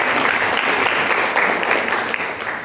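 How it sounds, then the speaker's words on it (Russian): A crowd at a poetry festival gives loud, dense applause that runs steadily without a break and fades slightly at the end. "Аплодисменты, друзья."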